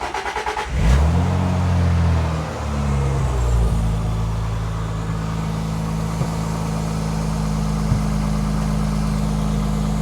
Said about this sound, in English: we'll fire the car up, see how she sounds